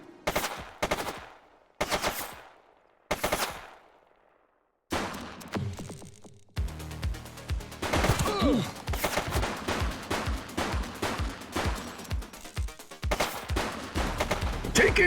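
A suspect's gunfire in the police game The Precinct: three isolated loud shots ringing out, then a dense run of rapid repeated shots with engine and action noise underneath.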